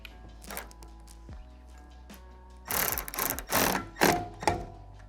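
A ratchet tightens a bolt on a Prinsu Pro roof rack foot: faint clicks at first, then bursts of loud, rapid ratcheting close by, with a few knocks of metal.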